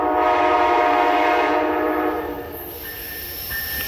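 An Amtrak passenger train slides through Point of Rocks, Maryland at sunset, a loud steady rumble of cars and wheels holding throughout, with a horn-like tone and a faint high squeal appearing toward the end.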